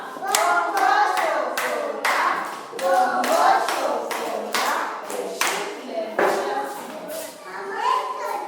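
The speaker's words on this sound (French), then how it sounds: "Applaudissez pour Déborah" Children and adults at a kindergarten class at Happy Kids School clap for a young girl after her French recitation, uneven bursts of close hand claps with children's voices mixed among them throughout.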